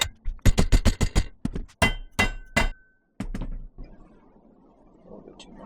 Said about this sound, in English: So we're just going to hammer this out quick and hope it works.